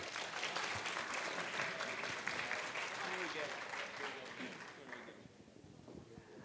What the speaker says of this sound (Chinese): 我们就再次的掌声恭喜他们